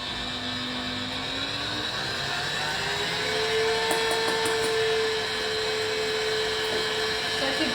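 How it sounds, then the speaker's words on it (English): An electric mixer whirs steadily while whisking egg whites for a sugar-free pavlova, its hum shifting in pitch a little as the beating goes on, with no talk over it. "now we're just going to spend some time making our egg whites lovely and fluffy"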